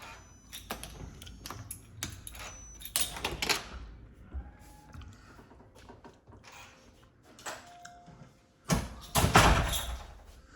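A condo suite door near the main entrance opens with clicks, knocks and rattles, building to a louder clatter and thump at the end, with no talk heard.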